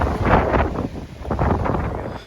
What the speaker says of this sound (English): Sure is windy up here.